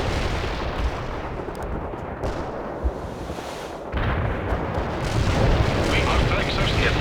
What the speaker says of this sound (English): Commencing the barrage. Artillery strike on the way.